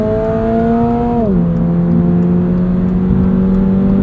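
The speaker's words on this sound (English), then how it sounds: "This does have active sound control or fake piped in noise through the speakers" Steady 2022 Toyota GR86 automatic engine drone with synthesized sound piped through the speakers, pitch dropping slightly as the revs fall, then holding at a low even hum; a constant, fairly loud interior sound.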